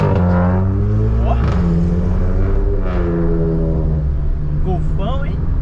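A Volkswagen Golf with a loud aftermarket exhaust rumbles past at traffic lights on a city avenue, its deep engine drone rising and falling as it moves through, with other traffic around it.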